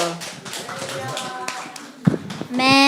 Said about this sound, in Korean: 우리 하나님께 감사의 박수를 드립시다